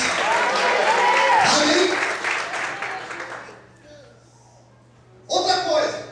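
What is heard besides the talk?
church congregation applause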